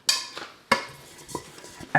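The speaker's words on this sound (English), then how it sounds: "It's a brand new wok that's" A brand new non-stick wok being handled, giving sharp metallic clanks and knocks at irregular intervals, close and fairly loud with quieter rattles between the hits and no talking.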